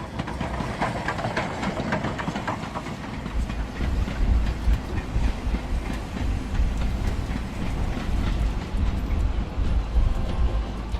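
A train in the Railway Empire railroad simulator game rolls along rails with a continuous rumbling clickety-clack that grows heavier partway through, loud and steady without voices.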